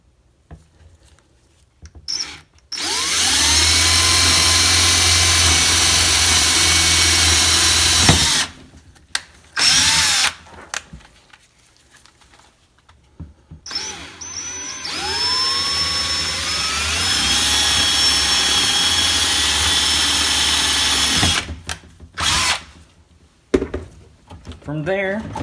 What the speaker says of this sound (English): So flush this up and drill.